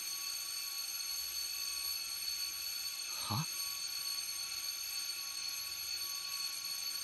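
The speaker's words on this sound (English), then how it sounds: "Out of nowhere, the fire alarm goes off. A shrill, blaring sound." A fire alarm sounds in the 9-nine- video game: a steady, shrill electronic tone with several layered pitches that holds unbroken throughout. Near the middle, a short voice briefly cuts across it.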